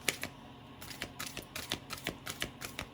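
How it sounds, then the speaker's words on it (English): Large oracle cards being shuffled by hand, a quick series of crisp papery riffles and slaps in an irregular rhythm, close and fairly soft with no talk. "shuffle them up a little bit."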